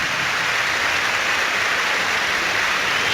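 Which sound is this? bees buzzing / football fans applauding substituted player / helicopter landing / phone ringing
football fans applauding substituted player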